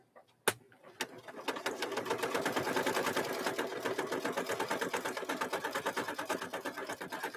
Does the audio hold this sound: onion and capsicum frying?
no